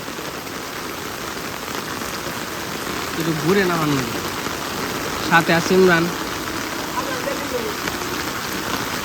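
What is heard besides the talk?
rain falling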